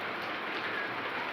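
Rain falls in a steady, even hiss, a soft continuous wash of drops with no other sounds.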